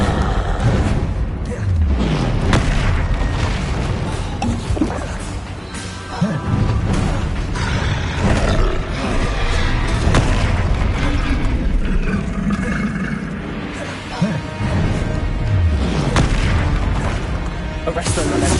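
Confringo fire-spell explosions cast in the Hogwarts Legacy video game: repeated heavy booms and crashes follow one another over a continuous loud, dense rumble.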